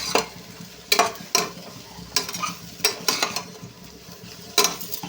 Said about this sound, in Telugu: రవ్వ కూడా ఫ్రై చేసుకోవాలండి